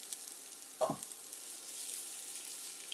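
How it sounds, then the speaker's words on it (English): Onion sautéing in a pan gives a faint, steady sizzle, with a brief clatter of stirring near the start. "We're just kind of going to saute these down."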